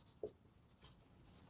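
Marker or chalk writing an answer on a board during a maths lesson, heard as faint scratchy strokes in short bursts around quiet pauses, ending with a louder tap.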